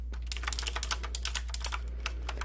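Rapid typing on a loud gaming computer keyboard, crisp clacky keystrokes in quick irregular bursts over a steady low hum.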